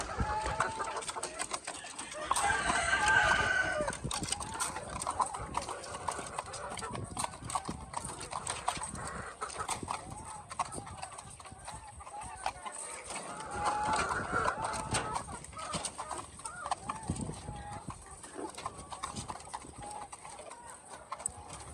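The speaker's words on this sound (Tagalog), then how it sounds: "So ito naman yung isang batch natin ng white leghorns." A batch of white leghorn laying hens clucking while they feed on layer crumble, with a busy, fairly faint patter of pecking and shuffling and occasional clucks, plus a voice talking in the background.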